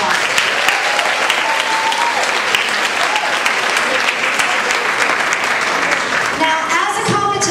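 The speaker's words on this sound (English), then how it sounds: "Give them a big round of applause." A crowd gives loud, sustained applause for middle school students at an awards ceremony, a dense, continuous wash of clapping with a few voices faintly audible underneath.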